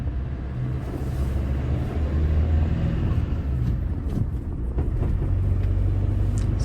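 Mercedes van on the road, heard from inside the cabin: a steady low engine and road rumble with faint rattles, continuous and fairly loud.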